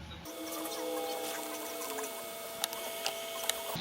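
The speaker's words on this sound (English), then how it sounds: "Ooh, I love that hard drive sound." Computer hard drive spins up while the machine boots, a faint steady whirring hum with high whine, punctuated near the end by a few soft clicks of head seeks.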